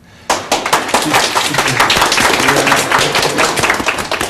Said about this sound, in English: I always clap for myself just in case nobody else will clap.